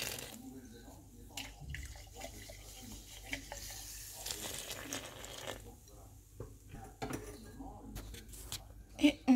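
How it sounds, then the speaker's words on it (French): Spoon stirring a wet bread dough mixture of flour and liquid in a bowl for Turkish bread rolls, soft continuous sloshing and scraping with occasional clinks, faint and close. "on mélange le tout"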